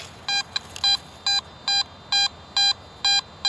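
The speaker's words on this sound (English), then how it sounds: "I'll turn off the Z-Link headphones so you can hear the detector." Garrett AT Max metal detector sounding a repeated high electronic tone outdoors over grass, eight to nine evenly spaced short beeps, clear and close over quiet background hiss.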